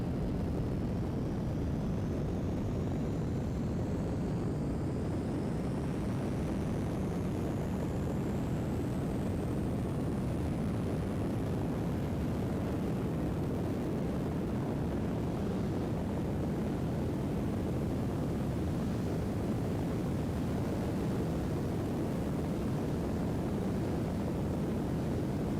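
Rocket engines at full throttle during a launch in Kerbal Space Program 2, a loud continuous broadband roar that holds steady and unbroken with a faint rising whine above it.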